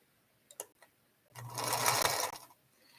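A home sewing machine stitching late at night: a couple of brief mechanical clicks, then a steady, loud, close whirring run of about a second before it stops, with no talking.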